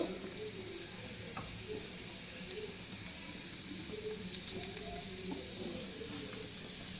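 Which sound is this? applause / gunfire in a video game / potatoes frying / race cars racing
potatoes frying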